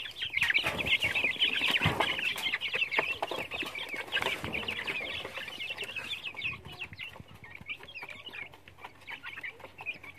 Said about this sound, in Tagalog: ito yung mga first batch na ano guys, native chicken natin